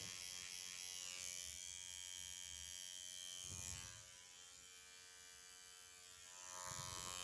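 Tattoo machine buzzing steadily at close range while fine shading is tattooed, with a constant high electric whine that dips briefly in the middle before resuming, no talking.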